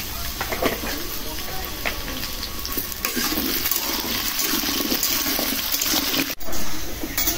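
Potatoes frying in a pan, a steady dense sizzle and hiss that carries on throughout at close range, briefly cut near the end by a short dip.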